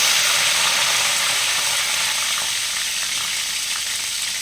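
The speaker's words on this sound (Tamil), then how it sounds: "கடுகு பொரிஞ்சிடுச்சு. அதுக்கப்புறம் கருவேப்பிலை போட்டுக்கிறேன்." Loud, steady sizzling and crackling of curry leaves frying in hot oil, a dense hiss that continues without pause.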